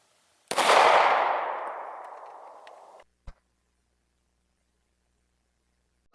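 A single jacketed 9mm pistol shot fired at a bowling ball outdoors, one loud sharp crack followed by a long fading rumble, then a short click and another brief tap near the end.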